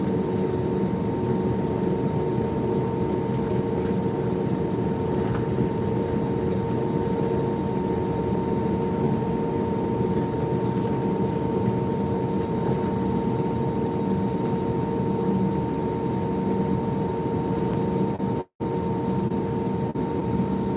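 An airliner rolling down a long runway on a late-night departure gives off a continuous, even jet roar with a steady tonal whine. It holds constant throughout and drops out briefly near the end.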